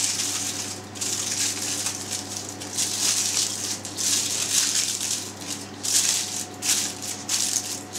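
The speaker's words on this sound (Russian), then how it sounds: "Отрываем нужное количество и заворачиваем форму фольгой" Aluminium foil crinkles and rattles as it is torn off and wrapped around a cake pan for a New York cheesecake, a continuous close, bright rustling with uneven crumpling bursts and no talk.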